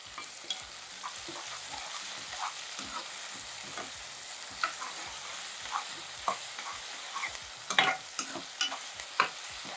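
Onions fry in oil with tomatoes, curry leaves and ginger-garlic paste for an eggplant curry, giving a soft continuous sizzle punctuated by frequent close spatula scrapes and clacks, busier toward the end.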